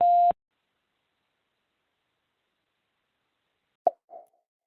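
On a phone call, a short, clean electronic beep of the voicemail tone sounds at once, followed by a few seconds of silence and then a faint click with a small burst of noise.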